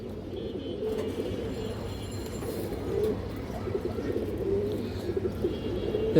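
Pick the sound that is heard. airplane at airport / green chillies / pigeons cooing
pigeons cooing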